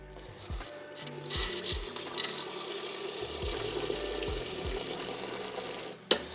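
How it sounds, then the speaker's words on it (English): Homebrewed peanut butter porter drawn from a fermenter with a thin steady stream of liquid trickling and hissing close by for several seconds, dotted with soft low thumps and ending in a brief louder clunk. "Gonna pull a little bit of beer out of here."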